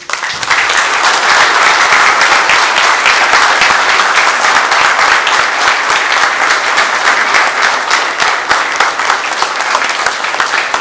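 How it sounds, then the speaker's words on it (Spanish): A crowd claps steadily and loudly for about eleven seconds at a company Christmas awards event, dense and continuous from start to finish with no voices over it. "vamos a aplaudir a todos ustedes"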